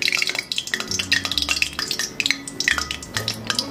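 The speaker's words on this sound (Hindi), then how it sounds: "तो यहाँ पर तेल अच्छे से गर्म हो गया है। हम इसमें डालेंगे 2 तेजपत्ता, 2 लाल मिर्ची" Bay leaves and two dried red chillies go into hot oil in a kadai for spicy Kolhapuri chicken curry, giving a close, busy clatter of stirring and metal scraping over a low hum.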